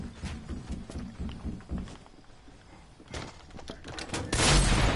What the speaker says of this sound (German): als dieser Schuss kam